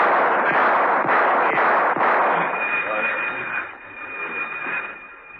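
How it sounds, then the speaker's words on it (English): Warning shots fired in a corridor in an audio drama, heard as a dense, loud rattle of rapid shots that carries on for several seconds, then thins out and fades while a high steady tone lingers. "whipped off a few warning shots and raced to the next corridor"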